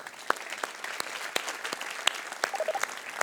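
Sparse audience clapping at a company anniversary keynote for the robot Pepper, a thin scattering of separate claps with a few brief tones in the background.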